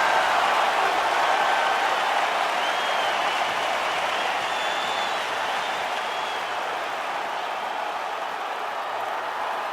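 An arena crowd in the UFC 5 video game cheers and applauds continuously for a lightweight championship fight, a broad steady roar that stays loud and even throughout with no one talking over it.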